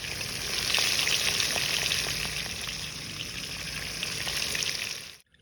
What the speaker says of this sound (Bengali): মাছ ভাজা বেশি করে তেল দাও